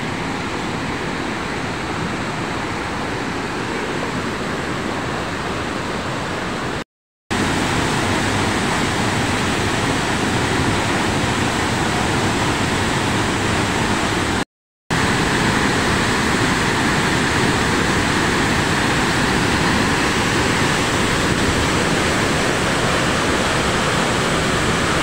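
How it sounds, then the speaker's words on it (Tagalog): Kanapsan Falls, a steady, loud roar of cascading water that holds unbroken throughout apart from two brief dropouts, with no voices. "Yung mga buffalo, ang ganda ng falls"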